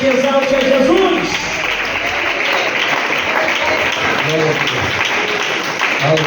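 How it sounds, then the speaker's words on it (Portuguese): A church congregation bursts into loud, sustained applause to welcome the pastor at a 50th anniversary service, steady clapping with a voice briefly heard over it near the start. "Vamos receber pastor Jarlan Pinheiro com palmas e glórias que exalte a Jesus."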